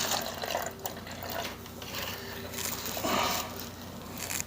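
Water pours onto a potted hardy kiwi plant, a steady close trickle and gurgle that runs without pause and swells slightly near the end, with no voices.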